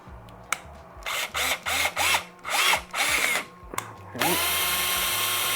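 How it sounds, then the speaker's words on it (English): A power drill whirs in a series of short bursts, revving up and down repeatedly, then runs in one steady sustained spin at the end, drilling a pilot hole into a kayak hull. "we're going to drill a nice little hole into the kayak"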